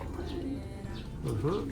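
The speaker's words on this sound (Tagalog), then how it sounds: "Ayan yung ibon mga kalapatids." A racing pigeon of a champion line coos in low, soft, rolling calls close by, with a voice speaking over it.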